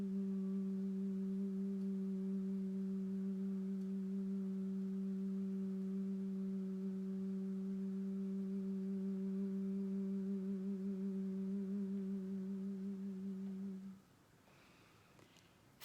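A group hums together for Ganga singing, holding one steady sustained tone for about fourteen seconds before it fades into quiet.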